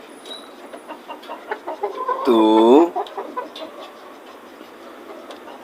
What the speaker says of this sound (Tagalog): Ang liligalig ninyong mga manok kayo.